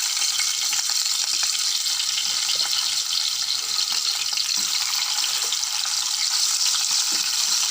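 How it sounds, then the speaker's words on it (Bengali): Cut potatoes fry in a pan with a dense, steady sizzle that holds evenly the whole time, bright and close, with faint scraping and stirring underneath and no talking. "অবশেষে আমাদের হালু বাজা শেষ হলো"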